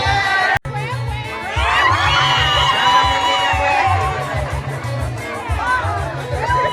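Shrill, wavering ululation rises over a cheering, chattering crowd at a wedding kitchen party, loud and sustained after a sharp knock near the start, with voices mixed throughout.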